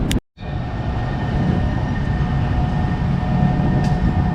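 A commuter train pulls out of a Dover station in New Jersey, its steady rumble and hum loud and continuous after a brief dropout at the start, with faint high squeals overhead.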